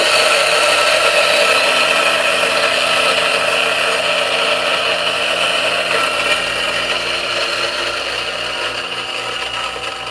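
A Turin DF64P coffee grinder fitted with a Gorilla Gear burr grinds coffee beans at a fine setting, a loud, steady motor whir with a gritty crunch that runs unbroken and fades slightly toward the end.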